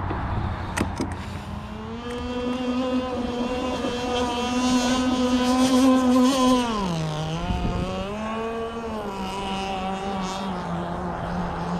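An RC gas-powered boat fitted with an X472 prop and swapped clutch shoe pads runs on open water, its small engine buzzing steadily with pitch rising and dipping as the throttle changes, heard alone.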